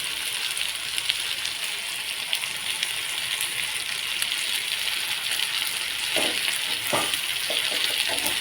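Two handfuls of grated coconut sauté in a pan for mint chutney, cooking until the moisture is gone. A steady, close sizzle holds throughout, with a few light stirring clinks near the end.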